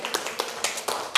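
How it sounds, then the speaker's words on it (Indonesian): A small classroom group clapping after a student research presentation, a handful of separate, uneven claps landing sharply and close, briefly and without voices. "Tepuk tangan sekali lagi."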